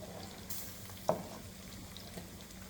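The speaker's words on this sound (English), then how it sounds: "Let me check on the gravy over here and give it a little quick stir. That's boiling." Thick brown gravy boils in a pot as a spoon stirs through it, giving quiet bubbling and sizzling with a single sharp clink partway through, and no one speaking.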